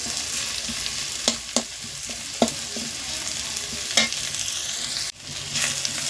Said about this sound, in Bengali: পেঁয়াজটাও মাঝখানে এরকম হালকা করে ভেজে নেবো